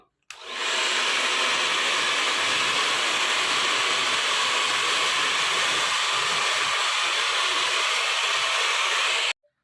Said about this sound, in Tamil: லைட்டாக இது மேலே ஹேர் ட்ரையர் கொடுத்துக்கலாம்